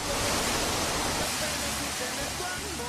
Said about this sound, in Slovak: hluk padajúcej vody z 30-metrovej výšky